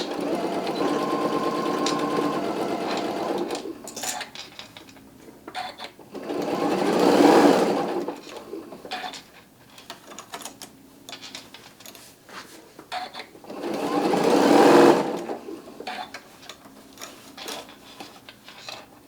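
A Martelli M7 flatbed sewing machine stitches through thick layers of a shark, bass or mermaid stocking, running in two loud, sustained bursts separated by quieter pauses and handling noise, with no talking.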